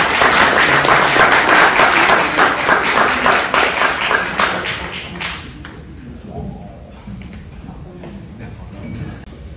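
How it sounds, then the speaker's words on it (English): An event audience applauds loudly for several seconds, then the clapping thins and fades into scattered claps and quiet room noise. "But please give a round of applause for the first half."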